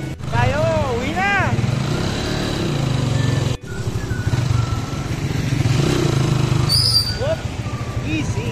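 Motorcycle carrying riders as it starts off, a steady engine drone with road clatter throughout, overlaid by people talking and calling out, and a short whistle-like tone near the end.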